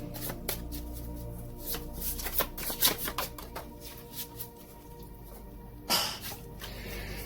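Tarot cards being shuffled by hand, a quick run of close, papery riffles and flutters that pause and return, ending in a sharper burst of card noise, with a low steady hum beneath and no talking.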